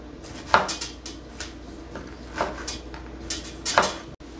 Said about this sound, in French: Et ensuite, je vais la couper finement.